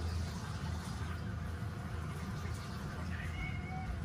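A house cat, a little over a year old, meows faintly during a piranha tank clean-up at home, a few soft short calls near the end over steady low background rumble.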